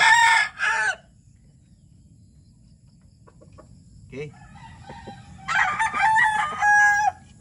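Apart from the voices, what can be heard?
gamecock rooster crowing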